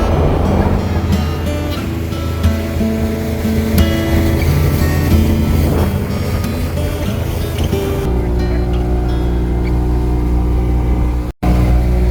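A motorboat engine drones loud and steady through the ride, its tone shifting partway as the throttle changes, with water rushing beneath it and voices talking over it now and then before a brief dropout near the end.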